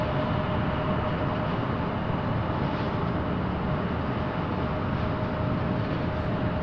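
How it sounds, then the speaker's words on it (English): A private jet arriving at Raleigh-Durham International Airport gives off a steady, unbroken engine roar that stays loud and even from start to finish, with no talk over it. "looks to be some sort of private plane"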